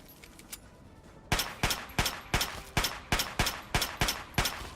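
A 10mm pistol in Fallout 3 fires about eleven sharp, evenly spaced shots in a steady rhythm, each one loud and close, after a quiet opening second.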